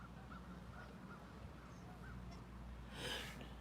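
Geese honk faintly in the distance in a steady series of short, repeated calls over a low background hum, with a brief rush of noise near the end.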